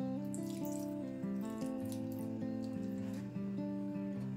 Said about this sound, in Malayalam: ഇനി അതിൻ്റെ വെള്ളം അല്പം ഒഴിച്ചു കൊടുക്കുക